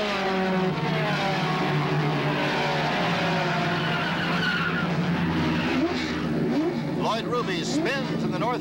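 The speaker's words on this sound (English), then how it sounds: "Right behind him, Len Sutton loses control and spins in the identical spot, taking Dan Gurney with him" Race car skidding and spinning at the 1965 Indy 500, a sustained tire squeal and engine roar with sweeping pitch swings near the end, under a commentator's voice.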